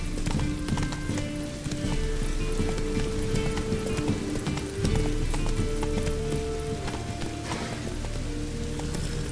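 Hooves of the horse Roach in The Witcher 3 clip-clop at a steady galloping rhythm, close and continuous, with faint rain patter and an occasional whinny beneath.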